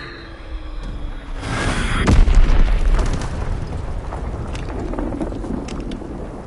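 An Azon bomb detonates in a video game: a deep, heavy boom swells and peaks, then rolls into a long rumbling, crackling tail that slowly fades. Earlier there is a whooshing sweep, and no talk is heard.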